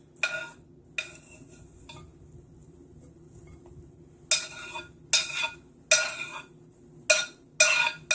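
Onions and jalapeños tipped into a bowl for a meatless meatloaf, heard as a series of sharp, close scraping and clattering bursts against the bowl, spaced by quiet gaps and growing more frequent toward the end.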